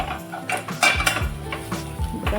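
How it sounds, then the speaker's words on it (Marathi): Homemade spices being stirred in a pan for pav bhaji, with a spoon scraping and clinking rhythmically against the metal over a faint sizzle, close and fairly loud. "हे आता मसाले आपल्याला व्यवस्थित असे पहिले मिक्स करून घ्यायचे"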